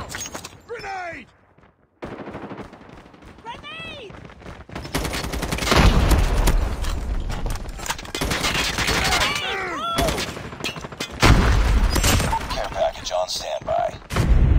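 Grenade blast and heavy gunfire in a Call of Duty Mobile match on the Dome map, loud bursts of shots and booms rolling continuously, with radio-style voice callouts cutting in early on.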